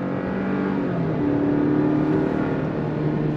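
A 2023 Chevrolet Colorado pickup with an 8-speed automatic pulls hard on throttle, its engine drone rising in pitch, dropping briefly at a shift near the middle, then climbing again, steady and fairly close.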